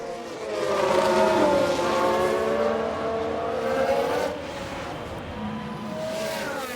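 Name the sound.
race car spinning and skidding in F1 Manager 22 video game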